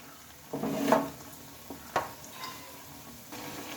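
Cabbage pakoras frying in oil make a soft, continuous sizzle, quiet and close, broken by a few louder scrapes and clinks of a utensil turning them in the pan. No one speaks.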